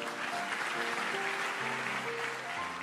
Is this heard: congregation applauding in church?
yes